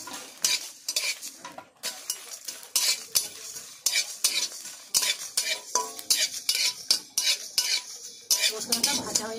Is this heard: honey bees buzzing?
no